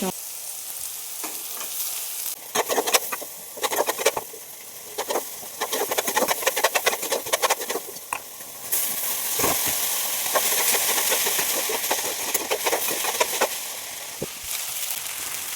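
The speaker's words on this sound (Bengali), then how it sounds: "তারপর লঙ্কা পেঁয়াজ দিয়ে সবজিগুলো হালকা ভেজে নিচ্ছি" Vegetables with chilli and onion fry in a kadai over medium gas, giving a steady close sizzle with intermittent scraping and stirring clatter throughout.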